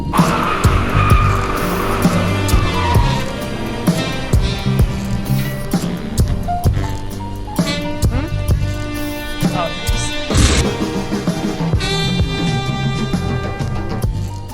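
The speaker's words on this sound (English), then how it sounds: "It's loud. It needs a better exhaust." A loud car engine revs and roars through its exhaust, pitch climbing and dropping with shifts, tires squealing at moments, close and aggressive throughout.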